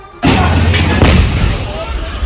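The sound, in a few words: gas cylinder explosion after shop fire, news footage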